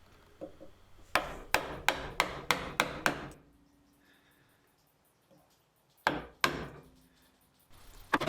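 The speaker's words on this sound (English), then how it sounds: "I then clean up the rest of the joint with chisels" Chisels are struck with sharp taps while cleaning up a pocket for a wood joint on a sawhorse: a quick run of six close, evenly spaced hits, a pause, then two more and a final tap.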